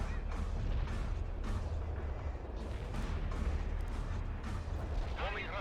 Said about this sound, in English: Bombing run completed.